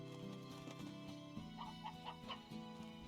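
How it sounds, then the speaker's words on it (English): A chicken in the video game Slime Rancher clucks in short repeated bursts, fairly faint against a steady background music bed. "It's a chicken, it's a chickie, but it's all I got."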